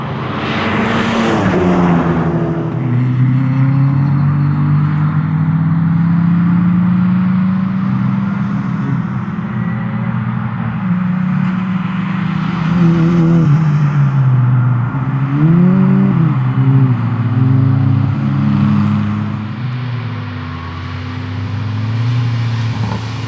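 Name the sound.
cars driving on the Lurcy-Lévis race track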